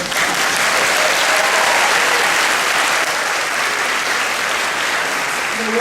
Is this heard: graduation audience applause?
yes